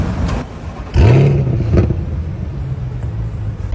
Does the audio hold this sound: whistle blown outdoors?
no